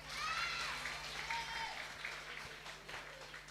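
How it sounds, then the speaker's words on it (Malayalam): Audience applause at a children's literature workshop during the ILFK 2025 literature festival, a steady, fairly faint wash of clapping from a crowd that tapers slightly, with a low electrical hum beneath. "ഒരു നല്ല കൈയടി കൊടുത്തേ."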